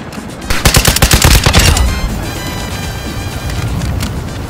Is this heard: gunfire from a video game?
yes